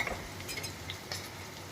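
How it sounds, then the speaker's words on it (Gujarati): Okra stirred while cooking in a pan: a soft sizzle underneath with a few light scrapes and clinks of the spoon against the pan, close and quiet. "ભીંડાને આપણે આ રીતે હલાવતા જઈને એકદમ સરસ ચીકાશ દૂર થાય ત્યાં સુધી આપણે આને પકાવવાનો છે"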